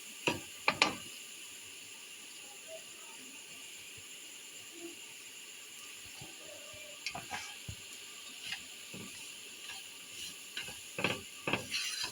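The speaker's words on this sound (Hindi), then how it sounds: "अच्छा से मिक्स करके इसकी भी अच्छे से हम भुनाई कर लेंगे" Ground moong dal mixture for halwa sizzles faintly in a pan as it is stirred and roasted, a soft steady hiss broken by occasional scraping taps of the spoon, with no voices.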